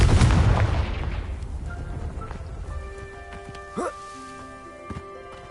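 Confringo fire spell blasts in Hogwarts Legacy: a loud booming explosion opening the moment, decaying into rumbling debris, followed by lighter magical chimes and tones.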